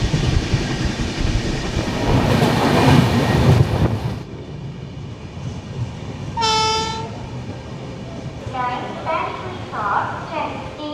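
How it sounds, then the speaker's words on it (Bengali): A train pulls into Balangir Junction station with a loud, heavy rumbling roar for about four seconds. A clear horn blast follows near the middle, then further softer horn tones amid the station background, with faint voices around. "ট্রেন এসে পৌঁছালো"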